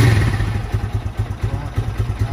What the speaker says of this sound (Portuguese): Ó, liguei a moto, acionou a injeção.